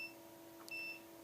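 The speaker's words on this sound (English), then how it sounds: "The thing is beeping and connected." A wire tester used on motor controller wiring sounds a faint, steady high beep as the wires touch, briefly breaking off before resuming.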